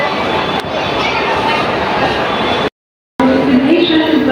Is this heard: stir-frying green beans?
no